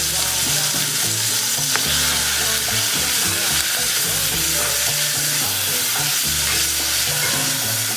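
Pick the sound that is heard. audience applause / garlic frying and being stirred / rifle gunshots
garlic frying and being stirred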